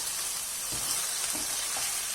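Steady, loud sizzling from a hot pot of peeled tomatoes, with a few soft clunks of stirring breaking through the continuous frying hiss.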